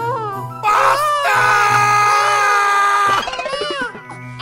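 A loud, sustained shrill scream with a wavering pitch lasts a few seconds and then breaks into short sobbing cries, very close, with brief vocal sounds just before it.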